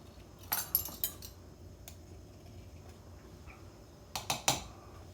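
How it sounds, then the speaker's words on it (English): Metal knife scraping across a teaspoon of cinnamon to level it, heard as a few light clinks and scrapes near the start and again at the end, with quiet kitchen room tone in between. "I will level it off with my knife"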